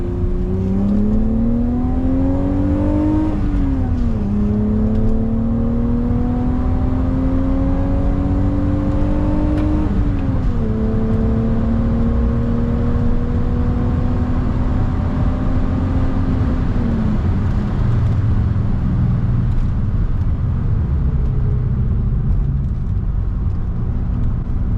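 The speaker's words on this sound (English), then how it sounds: "This has got to be the smoothest accelerating car I've ever been in. Like, I mean, it revs through" A 1988 BMW Alpina B3 2.7 E30 accelerates through its gears, its engine note climbing smoothly in several rising sweeps with brief drops at each shift. It is loud and steady from inside the car.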